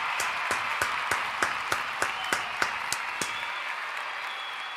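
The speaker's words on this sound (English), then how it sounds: "Another round of applause for Billy." Applause from an audience in a wrestling show setting, with a few sharp, sparse claps standing out over a steady wash of clapping that thins out near the end.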